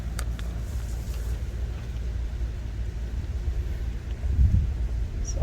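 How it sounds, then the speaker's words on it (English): Outdoor wind buffeting a microphone during transplanting of pepper plants into coco coir, a low continuous rumble with a stronger gust near the end. "it's starting to get a little windy"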